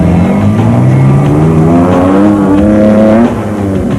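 Toyota and Isuzu rally cars race in the Mmabatho 500, engines revving loudly and continuously up through the gears close by, with a steady rising whine and no voices.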